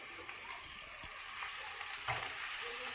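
Potatoes with cumin powder, turmeric and salt sautéing in a pan, a steady close sizzle broken by soft stirring scrapes, with no voice.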